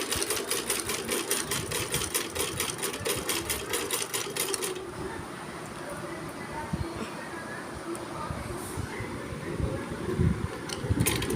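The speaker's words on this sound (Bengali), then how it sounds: "এই যে কটা বালিশের কভার আছে মা সেলাই করছে" Pillow covers are stitched on a sewing machine that gives a fast, regular mechanical clatter, close and steady for several seconds before stopping, while a person talks over it and afterward.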